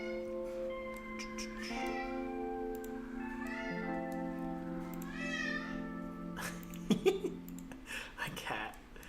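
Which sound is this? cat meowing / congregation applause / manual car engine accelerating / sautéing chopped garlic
cat meowing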